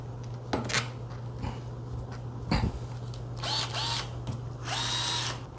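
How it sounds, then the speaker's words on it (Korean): An IKEA electric drill driving screws while reupholstering a single-seat sofa whirs in several short bursts, stopping and starting, with a steady low hum underneath and small clicks between runs. "전동 드릴 좋은데"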